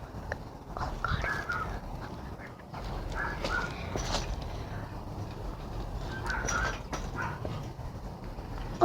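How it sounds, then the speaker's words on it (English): Outdoors, a scatter of faint bird calls and chirps rises over a low ambient rumble, coming and going irregularly at a moderate distance. "look how many birds there are"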